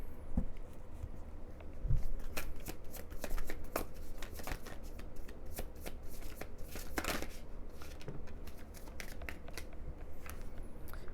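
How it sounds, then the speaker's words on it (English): Tarot cards shuffled and then laid down on a surface during a reading, giving a continuous riffling and slapping patter, close and fairly loud, with no speech. "I'm going to place the cards down first"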